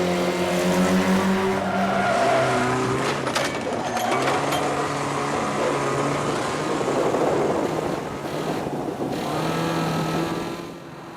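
Banger racing cars roar around a dirt track, loud engines rising and falling with tyre squeals and skids, several machines overlapping close by in a busy, continuous din.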